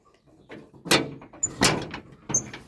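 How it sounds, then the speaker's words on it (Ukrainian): A door is worked open with a series of sharp knocks, rattles and scraping clunks, several loud hits spaced about a second apart, up close with no talk. "Зараз буду відкривати двері."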